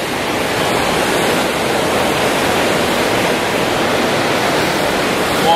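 River water runs over rocks at a salmon hatchery during low summer flow, making a steady, dense rushing wash that holds an even loudness throughout with no voices.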